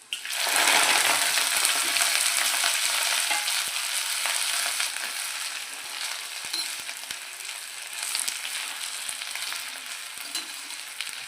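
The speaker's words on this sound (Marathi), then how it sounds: "ते जिरं चांगलं तडतड द्यायचं" Cumin seeds crackle and cooked fenugreek greens fry in a hot pan for home-style methi bhaji, giving a loud, steady sizzle that eases slightly and carries light stirring scrapes, with no talking.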